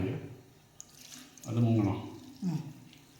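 Water pours in short bursts over spices for a sardine curry, a splashing liquid sound that swells and fades twice, with faint background noise between.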